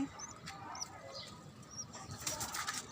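Pigeons flap their wings softly in a rooftop garden, faint scattered flutters against a quiet outdoor background.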